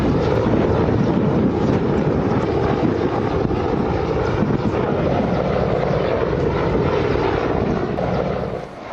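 Military helicopters land on a road, their rotors and engines producing a loud, continuous, close roar that holds steady for the whole stretch before easing slightly at the end, with no voices.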